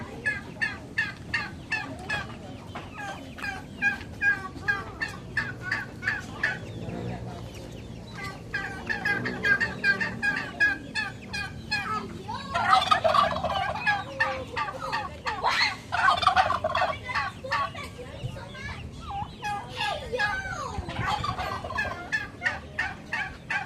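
Chickens cluck continuously nearby on a farm with goats, a busy flock calling in rapid, overlapping bursts that rise in loudness midway.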